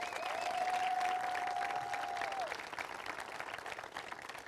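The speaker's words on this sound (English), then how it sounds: "I'd like to give him a round of applause for his effort" A political audience at a victory speech event breaks into sustained applause and crowd noise for candidate Charles Lawler, loud and continuous, with a faint tone running underneath at first before the clapping carries on alone.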